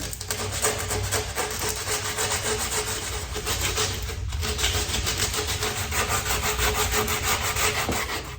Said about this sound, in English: I have some 60 grit sandpaper that I'm going to hit this with.